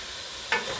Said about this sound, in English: So give that a quick stir.